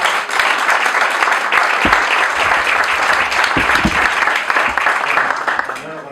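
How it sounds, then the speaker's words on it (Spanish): An audience breaks into loud, sustained applause, many hands clapping close and full, holding steady before easing off slightly at the end, with faint voices mixed beneath. "ahora vamos con un aplauso."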